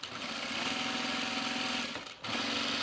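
A sewing machine runs a long easing stitch on a bomber jacket in a steady, rapid mechanical chatter. It stops briefly, then starts again at the same even pace, and no one speaks.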